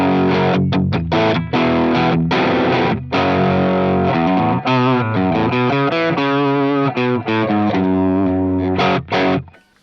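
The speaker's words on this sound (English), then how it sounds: "what an SG into a Marshall sounds like" Loud, heavily distorted electric guitar, a Gibson SG through a Marshall amp, playing a riff of crunchy chords and single-note runs, gritty and saturated, with brief gaps between phrases.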